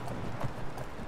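Horse hooves clip-clopping in Skyrim, a short run of soft, evenly spaced hoof falls, fairly quiet and heard alone.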